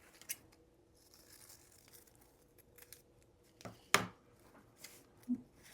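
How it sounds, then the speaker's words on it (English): A few scissors snips cutting a handle shape from recycled magazine paper, brief crisp cuts spaced out over a quiet background, with one sharper, louder snip near the middle. "Now I'm going to cut a handle out"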